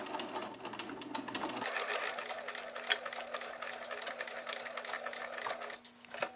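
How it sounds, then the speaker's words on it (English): A sewing machine stitches the short-end seam of a fabric bag handle at a quarter-inch allowance, running steadily and close for the whole stretch with a continuous whirring drone and rapid needle chatter. "And now stitch, using a 1/4 inch seam allowance"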